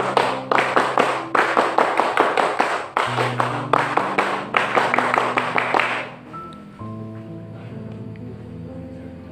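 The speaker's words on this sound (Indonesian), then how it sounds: "Dua kali tepuk pramuka" Two rounds of a rhythmic Indonesian scout clap (tepuk pramuka) from a group at a KMD scout training release ceremony, sharp patterned claps in quick bursts for about six seconds, then fading into a sustained musical tone.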